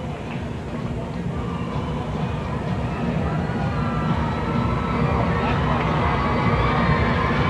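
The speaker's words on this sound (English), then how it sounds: "The noise level rises here. A very excited crowd on hand here." An excited hockey crowd roars steadily inside an arena, a dense wash of cheering with a commentator talking over it.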